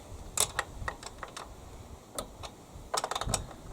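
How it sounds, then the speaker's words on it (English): A 10mm spanner undoes the nuts on a Hyundai lawn mower's recoil pull starter, giving sparse, light metallic clicks and ticks in small irregular clusters, close by and fairly quiet, with no talking. "now you can use a 10mm spanner on this and undo the nuts anti-clockwise"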